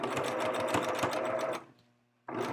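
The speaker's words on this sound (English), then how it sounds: "the closer to the edge you do straight stitch" Home sewing machine running a straight stitch on clothing fabric, a fast steady whirring chatter for about a second and a half, stopping to near silence, then starting again. Close and clear, no talking.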